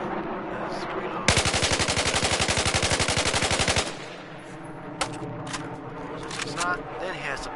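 Rapid automatic carbine rifle fire in Battlefield 4 at a shooting range, a dense burst of evenly spaced shots lasting over two seconds, followed by quieter clicks and clatter of the weapon being reloaded.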